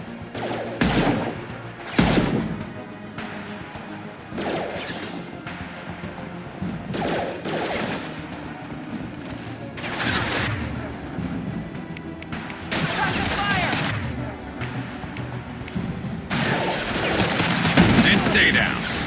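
Gunfire in the video game Mass Effect 2: repeated broadband bursts of shooting and impacts spread across a battle, with loud volleys and crashes, and voices occasionally calling out over the combat.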